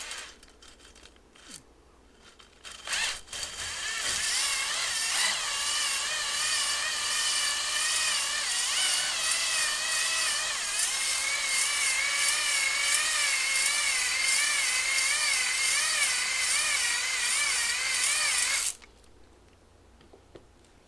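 Electric drill spinning a hone inside a Suzuki GS450 motorcycle engine cylinder, a loud steady whirring grind with wavering pitch from the up-and-down strokes, running about fifteen seconds before cutting off abruptly.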